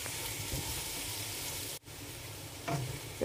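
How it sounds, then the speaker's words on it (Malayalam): Onions, tomatoes and green chillies sauté in hot oil in a pan for fried chicken biryani, giving a steady close sizzle with a brief break and a few stirring scrapes near the end. "ഇനി ഇതിലേക്ക് തക്കാളിയും പച്ചമുളകും ചേർക്കാം. 8 പച്ചമുളക് കീറിയതും 2 തക്കാളി മുറിച്ചതും"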